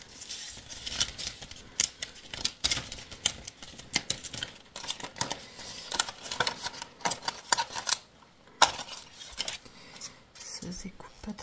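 Scissors snipping through paper while cutting out a small mountain shape for a scrapbooking pocket letter, a run of quick irregular close-up cuts with faint rustling and a short pause near the end.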